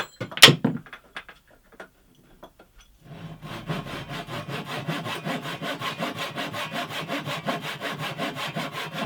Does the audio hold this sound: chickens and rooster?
no